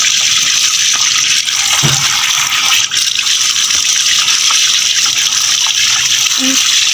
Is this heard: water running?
yes